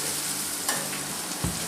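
Potatoes fry in a pan with bamboo shoots while being stirred. A soft, steady sizzle runs throughout, with a couple of brief scraping knocks from the spoon.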